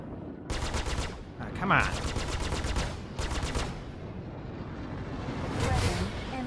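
Rapid bursts of ship cannon fire in the space combat game Star Citizen, several loud rattling volleys separated by short pauses, with someone speaking briefly over the gunfire.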